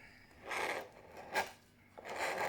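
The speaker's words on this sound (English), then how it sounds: "gently run your knife across your cone, and we're going to scrape off all the excessive ones that are on the cone" A knife scrapes old foam residue off a 12-inch subwoofer cone during refoaming, giving three broad raspy strokes close to the mic, each with a brief sharper catch, and no one talking.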